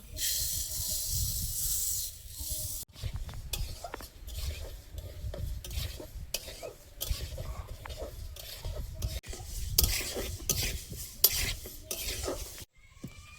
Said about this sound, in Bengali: মুগ ডালটা শুকনো খোলায় ভেজে নেব।